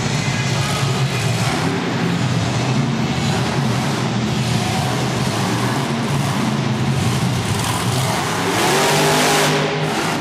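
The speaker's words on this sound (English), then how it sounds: "airing the Bigfoot truck out as much as he can on this tight indoor track" The engine of the Bigfoot monster truck roars continuously at high revs on a tight indoor arena track, loud and close, with its pitch rising and falling as the throttle changes throughout.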